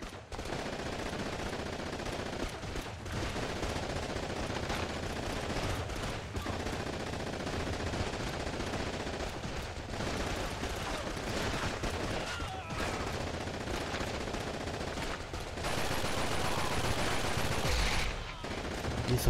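MG42 machine gun nest firing in Call of Duty 2: Big Red One, sustained bursts of heavy automatic fire, loud and continuous, mixed with battlefield noise and occasional voices.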